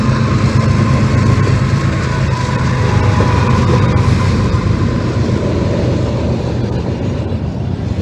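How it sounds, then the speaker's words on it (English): A train rolling along a railway track as a loud, steady rumble that fills the whole stretch, heard close by with no voices. "There's that train."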